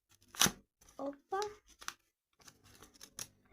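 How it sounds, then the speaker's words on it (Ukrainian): Paper packet from an Easter advent calendar being opened, a few short crinkling and tearing rustles in bursts, close and quiet, with a brief spoken exclamation among them. "Відкриваємо наш пакетик."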